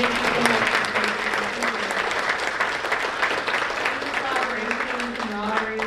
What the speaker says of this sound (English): Let us be the first to give a big round of applause to all our city managers.